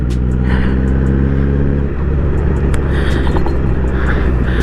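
Steady loud engine drone of a Honda CBR 1000cc motorcycle under way, a constant low rumble with wind rush and faint higher whine, no voices.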